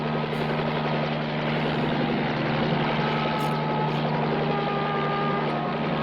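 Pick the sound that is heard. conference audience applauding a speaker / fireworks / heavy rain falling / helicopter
helicopter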